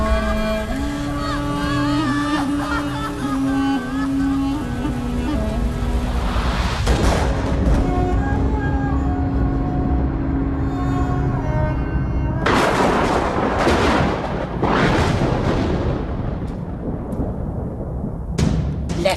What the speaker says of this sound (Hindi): मार दी सारी गोलियां उसकी छाती